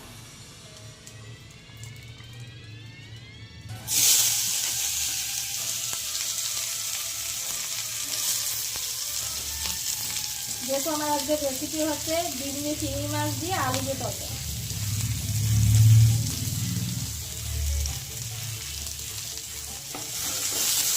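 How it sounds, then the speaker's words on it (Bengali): Onions hit hot oil with a sudden loud sizzle that keeps crackling steadily up close, while someone talks over it and brief tonal sounds and a swell of stirring come midway. "আর এখন পেঁয়াজটা ভাজতে হবে আমার"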